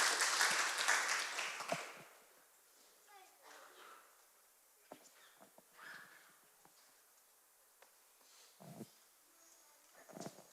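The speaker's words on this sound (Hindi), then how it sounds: "क्यों ना ताली के द्वारा उसको स्वागत करें।" A church congregation at a Sunday Hindi service claps to welcome a pastor, a loud burst of applause that fades within two seconds into quiet room sounds, scattered faint knocks and murmuring voices.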